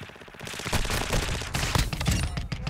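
Rapid pistol shots in Modern Warfare 2, fired when a player is hit by a shock stick: a loud run of sharp cracks over steady game noise, closely spaced and continuous through the short stretch.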